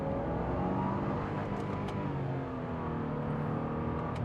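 A 2023 Subaru WRX Sportswagon with a CVT automatic pulls away from a standstill, its engine note droning and rising steadily in a continuous whir, with no talking.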